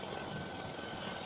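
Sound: helicopter flying over town

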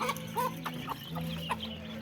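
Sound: chickens clucking

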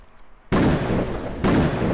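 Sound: loud bangs that sound like gunshots or fireworks

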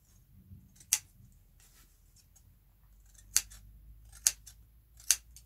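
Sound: scissors snipping into corset seam allowances

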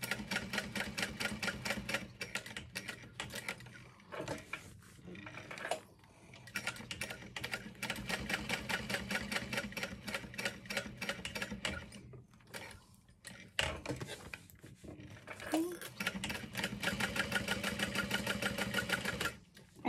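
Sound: sewing machine backstitching handbag corners

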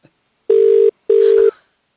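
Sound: telephone ringing on an outgoing call

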